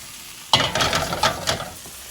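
Whole kernel corn, onions and garlic are stirred and sizzling in a hot Ninja Foodi Grill, with a sharp first scrape followed by several scraping strokes over steady frying, close and clear with no voices.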